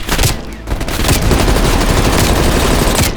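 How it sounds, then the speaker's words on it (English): Heavy machine gun fire rakes down from a ridge in the Call of Duty Black Ops Cold War game, a loud, dense, continuous burst of rapid shots with a brief dip before the firing resumes. "Heavy MG on the ridge."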